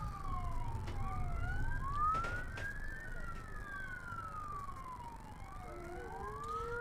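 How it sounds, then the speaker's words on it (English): Faint sirens wail in the distance at an outdoor sheep trial, their pitches sweeping up and down in overlapping cycles over a low, rumbling outdoor background. "We can hear some sirens in the background."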